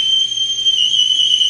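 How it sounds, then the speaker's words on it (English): A person whistles loudly out a window, a piercing steady high-pitched tone held for over a second with a slight wavering pitch. "Can you go whistle out the window?"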